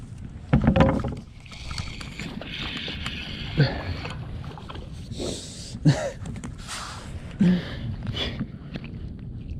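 Kayak on a swamp or creek during fall crappie fishing, paddle splashes and hull knocks in irregular bursts over constant water noise, close and fairly loud.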